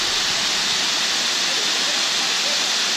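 Steady, broadband rushing roar of a waterfall at Ricketts Glen, close and constant with no breaks, filling the whole moment.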